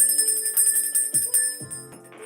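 A small bell rung repeatedly in an energy-cleansing ritual, bright overlapping chimes ringing close and clear, then a couple of softer strikes fading out, with no talking.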